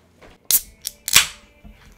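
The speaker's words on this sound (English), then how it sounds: "Cracking a cold one." A cold drink can is cracked open: a sharp metallic pop, a second crisp snap with a short fizzing hiss, then a faint click, all close up with no talking.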